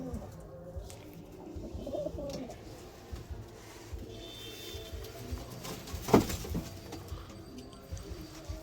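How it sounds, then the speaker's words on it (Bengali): Low, soft cooing of pigeons nearby, repeated throughout with a brief louder flutter or knock partway, faint background noise. "এই দুটো নতুন পায়রা দেখতে পাচ্ছ"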